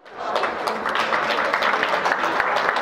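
Steady, loud applause from a crowd at a dog show as Rhodesian ridgebacks are presented, a dense continuous wash of clapping that keeps up without a break.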